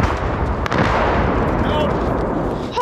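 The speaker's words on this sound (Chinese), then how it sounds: "没想到又遇上了更猛烈的炮袭" Artillery shelling in Irpin, Ukraine, during a Russian bombardment, heard as a loud, constant roaring barrage with a sharp, close blast early on.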